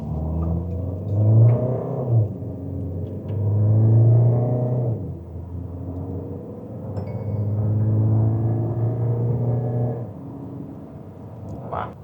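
Mahindra XUV 7XO diesel SUV launching in sports mode with traction control off, the engine rising in repeated low rumbling surges that swell and fade, loud and close with a slight whine on top.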